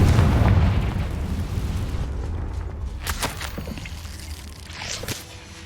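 A Confringo fire-spell explosion in Hogwarts Legacy, a loud deep booming blast at the start that rumbles and fades, followed by scattered crackling debris and light footsteps, no talking.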